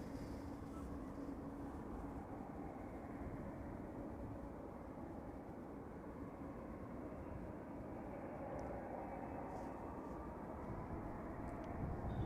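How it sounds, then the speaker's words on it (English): KLM Boeing 787-10 Dreamliner jet engines spooling up at Amsterdam Schiphol Airport, a steady broad distant roar that holds even throughout, faint and without voices. "KLM flight 623 spooling up. Going to Atlanta, Georgia. 787-10 Dreamliner."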